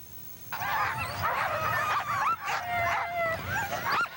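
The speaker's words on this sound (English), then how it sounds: "It's a dog race, though, Shishmaref, Alaska style." A pack of sled dogs at a dog race in Shishmaref, Alaska howl, yip and bark together, loud and close, with rising and falling wails overlapping for several seconds.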